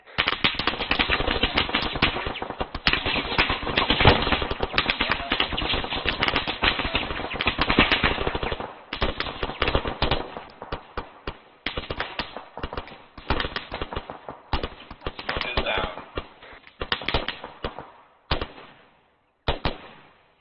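Machine gun fire during an army training exercise, dense rapid bursts of automatic shots rattling almost continuously at first, then breaking into shorter, spaced bursts and gaps toward the end.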